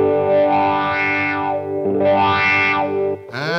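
Wah-style guitar through a Dunlop Cry Baby Junior pedal, a special-edition compact wah, set to a distorted tone: two long sustained chords swell and sweep, loud and close, then a brief new strum at the end.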